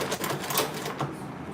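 An old, faulty sewing machine running while a tote bag is sewn, giving a brief, steady rapid rattling hum up close.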